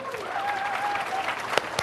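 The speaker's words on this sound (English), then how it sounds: "So give Ken a big round of applause" A seminar audience applauds a participant in a steady burst of clapping with a couple of sharper claps near the end, while a voice carries on faintly underneath.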